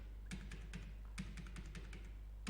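Computer keyboard keystrokes while entering bill-wise data in Tally Prime accounting software: quiet, irregular clicks and taps close by, about a dozen presses in short bursts, with no talking.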